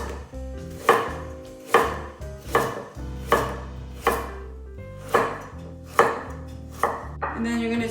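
A knife chops carrots into long diagonal pieces on a cutting board, with about nine crisp, evenly spaced strokes that land close and clear with no talking.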